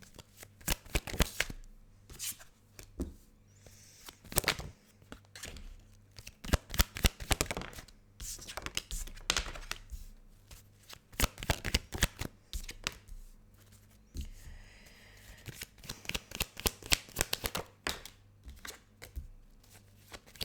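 Tarot cards being pulled and shuffled at close range, with a long run of crisp riffling and flicking card sounds in dense irregular bursts and brief pauses, with no voice.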